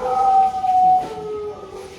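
Dogs howling at night, a long sustained wavering howl that rises and holds before trailing off, moderately loud against faint background noise.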